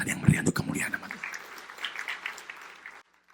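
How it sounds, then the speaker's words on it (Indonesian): Congregation clapping during a church sermon, a dense patter of many hands for about three seconds before it cuts off abruptly, fairly close and moderately loud. "Tepuk tangan yang meriah untuk kemuliaan nama Tuhan."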